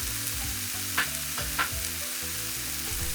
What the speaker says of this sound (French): On écrase le riz avec la spatule et fait revenir le tout.